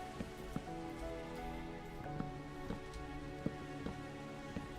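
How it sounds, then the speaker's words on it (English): Rain falls steadily in the Minecraft video game, a constant hiss with scattered sharper droplet taps, heard alone at a moderate level. "Do you notice that it is raining? Because it is currently raining."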